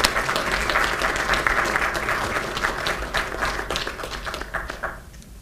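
An opening-ceremony audience applauds to welcome Brazil's delegation, with steady, dense clapping from a large crowd. It holds for about five seconds and then dies away.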